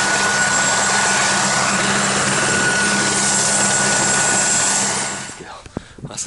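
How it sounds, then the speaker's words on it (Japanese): A helicopter flies at Aconcagua in snowy mountain conditions, a loud steady rotor and engine roar that fades away over the last second. "朝ヘリの見送りに来たんですけど"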